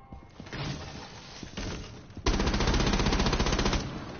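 Sustained automatic gunfire in Rainbow Six Siege, scattered shots at first, then a loud, continuous rapid burst lasting over a second before easing off.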